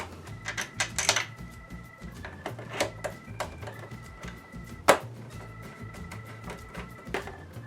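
Screws being driven back into the top of a Jurassic Park electronic tabletop pinball toy give a quiet run of irregular clicks, ratchety ticks and small clunks, close up, with one sharper knock partway through.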